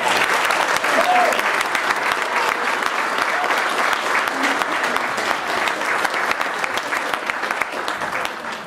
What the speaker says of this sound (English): ask you for a round of applause for all the restaurateurs